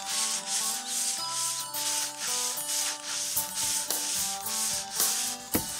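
Rhythmic back-and-forth rasping of sanding on wooden terrace boards, close and fairly loud, with a faint tonal hum running underneath.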